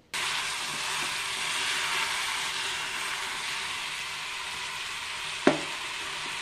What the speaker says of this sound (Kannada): ಅಕ್ಕಿನ ತರಕಾರಿ ಜೊತೆ ಸ್ವಲ್ಪ ಫ್ರೈ ಮಾಡಬೇಕು